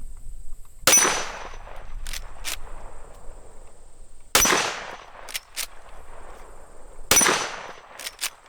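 Three loud, sharp gunshots from a .44 Magnum revolver firing 300-grain Black Hills jacketed hollow point rounds, spaced a few seconds apart, each followed by a short ringing decay and faint clinks outdoors.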